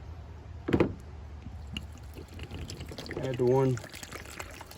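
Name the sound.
pouring water into casting powder in a bucket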